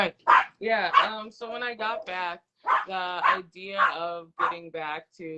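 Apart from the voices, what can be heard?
dog barking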